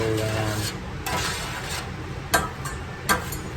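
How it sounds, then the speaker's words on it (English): A spoon stirs a pot of prime rib jus, giving soft scraping swirls and a few sharp metallic clinks against the pot, close and fairly quiet. "Give that a good stir around"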